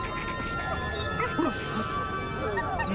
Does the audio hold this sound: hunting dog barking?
yes